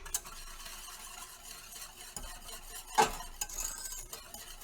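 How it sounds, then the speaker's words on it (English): A whisk stirs sugar into a thickened mixture in a pan on a just-switched-off stove, soft scraping and light metallic taps with a sharper clink partway through, quiet and close. "Whisking that about."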